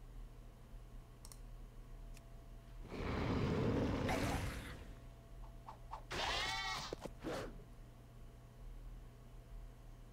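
Baa'l, a sheep-like battle pet, bleats in a video game, with two bursts of electronic bleating sounding over a quiet hum, alongside a few faint clicks.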